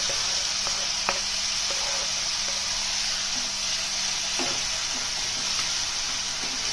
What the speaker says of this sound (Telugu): ఇప్పుడు ఇందులో సన్నగా కట్ చేసి పెట్టుకున్న బాగా పండిన 3 టమోటాలు వేసుకోవాలి